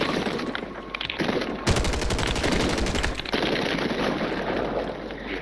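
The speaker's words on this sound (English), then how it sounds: "People are shooting me and I'm shooting them." Sustained automatic gunfire in Call of Duty Warzone: dense shooting with a fast, rattling machine-gun burst in the middle, loud and continuous throughout.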